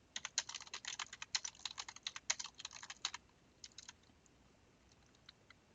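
Code typed on a computer keyboard while working in GameMaker Studio: a rapid, crisp flurry of close clicks that slows to a few sparse taps and then falls silent.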